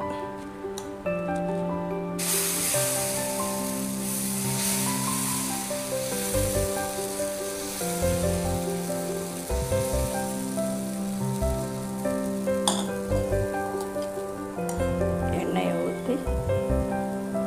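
Adai dosa batter sizzling on a hot griddle, a continuous bright crackling hiss over a sustained musical background, loud and close, with the frying fizz rising sharply after about two seconds and holding steady.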